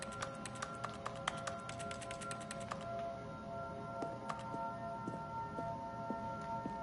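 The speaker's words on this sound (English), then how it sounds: "Instead, Stanley is aggressively slapping himself in the face." Stanley in The Stanley Parable slaps himself in the face over and over, a fast run of sharp light taps on top of a steady tonal game background, thinning out to scattered hits midway.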